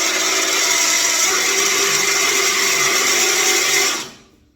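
A power drill with a countersink taper bit cutting a countersink for Allen bolts gives a loud, steady high-pitched whine that holds evenly for about four seconds, then winds down and stops.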